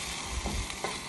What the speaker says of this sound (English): So now we put the garlic and the ginger together.